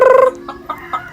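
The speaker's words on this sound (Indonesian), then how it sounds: "Ini ayam" A chicken gives a short burst of rapid clucking, then a few softer, spaced clucks, close and clear with no talk over it.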